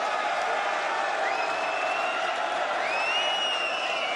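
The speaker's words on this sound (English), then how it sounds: "Crowd trying to rev him up." Darts championship crowd in an arena producing a steady, dense roar of cheering and chanting, with rising whistles or whoops cutting through the continuous noise.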